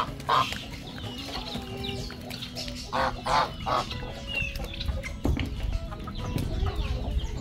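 Birdsong and calling in mango trees on a rural farm, with a rooster or hen clucking among it; chirps and calls come in bursts over a busy background.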